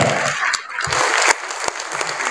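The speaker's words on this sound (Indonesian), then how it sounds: "Saya minta tepuk tangan yang paling optimis untuk Bapak Sekretaris Jenderal DPP Partai Gerindra." Applause for the Gerindra party secretary general at a cadre gathering, a short burst of crowd clapping, fairly loud and dense, with a brief dip partway through.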